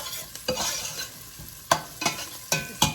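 Garlic fries in a pan as the base for a tomato sauce, with a soft sizzle under several sharp scrapes and clicks of a utensil stirring against the pan in an irregular rhythm, close and fairly quiet.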